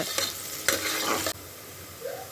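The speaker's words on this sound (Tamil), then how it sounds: "அதில் வெங்காயம் ஹோல் மசாலாவையும் சேர்த்து நல்லா வதக்கிக்கோங்க" Onions and whole spices sizzle in hot oil while a utensil scrapes and stirs the pan in a few short strokes, then the frying quiets to a soft hiss.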